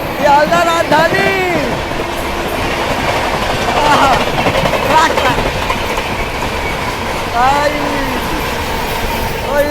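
Sealdah Rajdhani express train rushing past at speed, a loud continuous rumble and clatter of wheels with metallic squeals and screeches, heard up close alongside from another moving train, while someone speaks excitedly over it.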